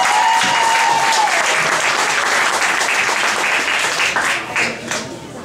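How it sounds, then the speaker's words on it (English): Audience at a benefit concert breaks into loud, dense applause that holds steady for several seconds, then tapers off; a faint tone sounds briefly at the start. "So let's give them a round of applause."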